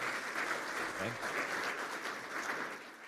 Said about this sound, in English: We can give you a round of applause as well.